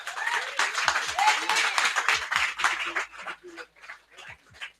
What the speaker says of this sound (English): Jamie, give him a round of applause.